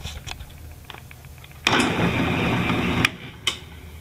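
A cheap drill press motor starts up after its direction is switched to reverse. A few light clicks are followed by a sudden loud whirring hum that runs for about a second and a half, then cuts off, and one brief burst follows.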